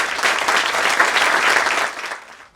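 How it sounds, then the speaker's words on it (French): A crowd claps steadily and warmly for a couple of seconds, then the applause fades out toward the end. "Puis je pense qu'on peut les applaudir."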